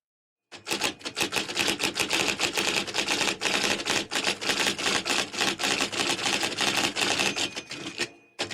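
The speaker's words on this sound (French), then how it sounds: "Il glissa une feuille dans la machine à écrire et commença à taper son rapport." A typewriter typing a police report, with rapid, uneven runs of crisp key strikes and clacks that continue for several seconds, close and loud, ending with a bell-like ding near the end.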